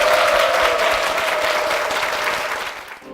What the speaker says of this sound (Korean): 다시 한번 두 분께 큰 박수 부탁드리겠습니다